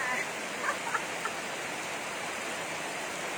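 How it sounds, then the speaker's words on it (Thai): Heavy rain pours down steadily as people play in it, a broad even hiss with a few faint splashes and voices in the background. "เล่นน้ำฝนนะ"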